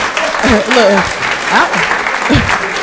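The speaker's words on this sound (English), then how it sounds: "Y'all can clap better than that." An audience applauds at a county board of commissioners meeting, a steady burst of clapping with a few whoops and voices mixed in over roughly three seconds.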